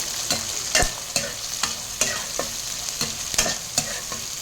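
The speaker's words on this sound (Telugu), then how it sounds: "అన్నీ వేసి మంచిగా ఫ్రై చేసుకోవాలి." Onions and green chillies fry in a pan for poha, a steady close sizzle broken by regular scraping stirs of a spoon, with no talking.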